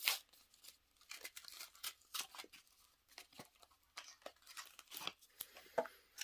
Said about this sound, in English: I'll just rip it.